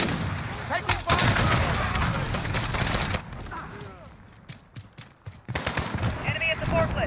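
Dense automatic gunfire in a shoot house team deathmatch video game, loud and sustained in bursts before thinning to scattered shots, then picking up again, with muffled voices mixed in.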